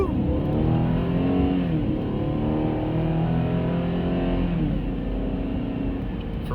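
A 2017 Chevy Equinox LT with 301 horsepower accelerates hard, its engine roaring loud and close from inside the cabin with a sustained rising drone.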